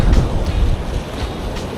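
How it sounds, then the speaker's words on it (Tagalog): Ocean waves washing over shallow shore rocks, a steady loud surf roar with wind buffeting the microphone and strongest surges in the first moments, heard alone. "Lalakas na ulit yung alon na to."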